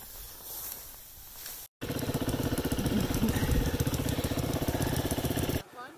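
A Honda XR100 dirt bike engine idles up close with a steady, rapid, loud mechanical putter that runs from just after a brief cut until near the end, preceded by quieter background noise with no talk.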